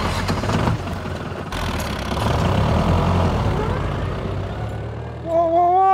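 A tractor engine runs with a loud, steady low rumble and knock, rising sharply in the last second as the engine revs. Voices talk over the engine.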